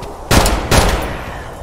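Two sharp bursts of video game gunfire crack out close and loud about half a second apart, then the weapon falls silent, out of ammo, with only a faint background hum.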